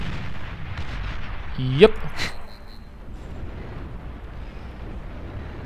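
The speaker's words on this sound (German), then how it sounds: "Ach, der hat so einen instabilen Fusionsreaktor. Ich glaube, der könnte ein bisschen hochgehen, wenn ich da drauf schieße." In the Beyond All Reason strategy game, an unstable fusion reactor is shot and blows up with a sharp burst followed by a short ringing tail, set against a steady rumble of battle and a brief spoken word.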